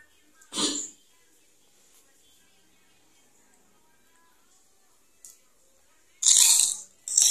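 Crunchy bites into crispy fried chicken skin coated in Mustofa seasoning with sliced lime leaves, one sharp crunch early and a louder burst of crunching near the end, close to the mic in an otherwise quiet room.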